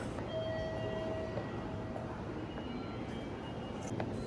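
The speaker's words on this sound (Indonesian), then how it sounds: "Oke, aku sudah sampai di stasiun Gifu." Steady low rumble of a train at Gifu station in Japan, with a constant broad hum, faint high whining tones and a few soft clanks over about four seconds, no voices.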